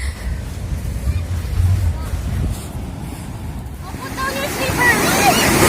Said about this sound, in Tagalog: Nandito na kami sa dagat. Sa San Narciso, Zambales.